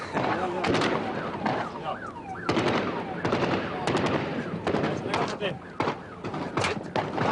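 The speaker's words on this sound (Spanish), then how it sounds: "En este momento la policía está intercambiando balas." Gunfire as police exchange shots with robbers, with sharp shots cracking out in irregular bursts over about seven seconds, mixed with excited talk and a busy background.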